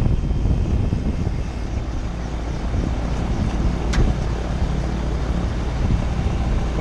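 A gyroplane on the ground at Carlisle has its engine running and its rotor spinning, producing a loud, steady roar that continues without a break through the whole clip.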